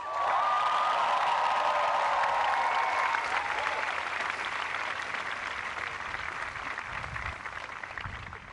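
Dartmouth class of 2011 graduates at a commencement clap and cheer in a loud, sustained burst of applause that fills the space, with a few whoops early on before gradually tapering.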